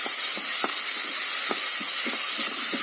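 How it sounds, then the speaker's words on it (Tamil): Chopped onions sautéing in a pan for eggplant gothsu, a steady close sizzle and frying hiss with soft stirring taps scattered throughout, no voices. "வெங்காயம் நல்லா வதங்கணும்"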